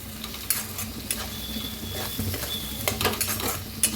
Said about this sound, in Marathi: आता ह्याच्यात टाकायचे हळद, गरम मसाला 1 चमचा, भाजून घेऊया.